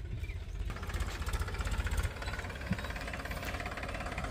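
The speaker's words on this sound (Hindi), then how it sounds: "और ट्रैक्टर आ चुका है आलू उखाड़ने के लिए" A tractor engine runs steadily at a potato field during harvest, a rough, knocking idle with rapid rhythmic pulses, moderately close and continuous with no talk.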